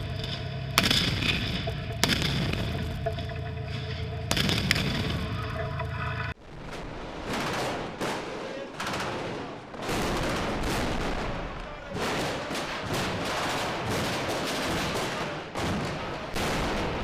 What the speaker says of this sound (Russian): пехотинцы, расстреливая здание внутри и не давая высунуться гранатометчикам